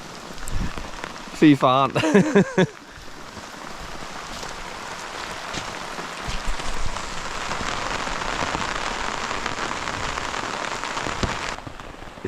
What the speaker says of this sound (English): now it's raining and now it's wet